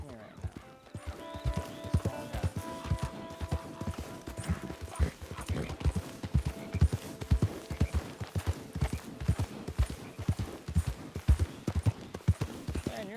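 Steady galloping horse hoof clip-clops in the video game Red Dead Online run throughout, a fast regular rhythm close up, with occasional faint snorts and a voice talking briefly over them.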